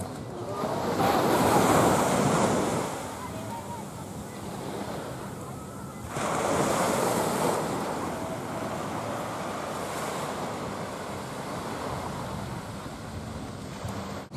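Ocean surf rolling onto a beach along a Maui shoreline path toward Black Rock, with two broad swells of crashing wash around the second and seventh seconds over steady wind rumble on the microphone.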